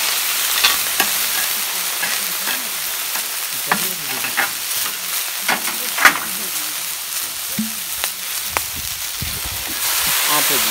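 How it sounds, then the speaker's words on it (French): Venus clams sizzling on a very hot plancha griddle, a loud continuous crackling fry with sharp pops and spatters, the shells being stirred and shifted now and then. "Donc plancha bien chaude, hein, parce que l'eau contenue dans les coquillages va faire baisser la température"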